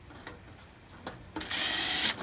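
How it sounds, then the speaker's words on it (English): A few faint taps, then a cordless drill whirs up for under a second at close range, a steady high motor whine, while removing a blank during a heat strip installation. "So I'm just going to take my cordless drill."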